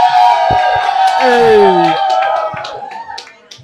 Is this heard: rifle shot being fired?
no